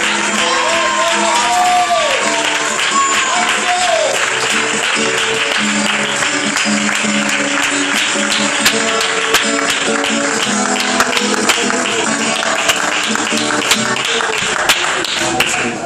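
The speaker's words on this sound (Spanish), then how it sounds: "Un fuerte aplauso y que Dios les bendiga mucho" A large church congregation applauds loudly and steadily, with clapping, shouts and whoops mixed in over music and voices.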